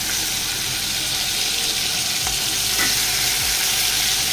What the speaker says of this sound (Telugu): వాష్ చేసుకున్న మటన్ ముక్కలు ట్రాన్స్ఫర్ చేసేద్దాం